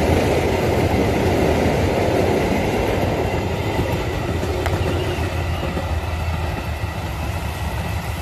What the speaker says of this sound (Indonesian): selamat jalan kereta api Putri Delhi, semoga sampai tujuan